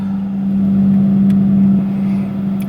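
A car with a loud exhaust tailpipe rumbles past, its low steady engine drone swelling as it nears and easing away over a couple of seconds, with no voices.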